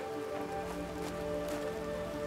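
Steady rain pours down on an alien planet in the survival game The Planet Crafter, a continuous hiss of drops on surfaces with no pauses.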